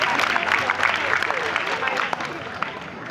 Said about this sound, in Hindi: राम कुमार जी मित्तल, टैक्स एडवोकेट, जोरदार तालियों के साथ अभिनंदन करेंगे